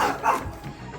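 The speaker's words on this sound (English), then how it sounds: "Dog started barking, so put on pause, calm him down a little bit." A dog barks indoors in a home kitchen, a couple of quick, fairly loud barks close by in a short burst.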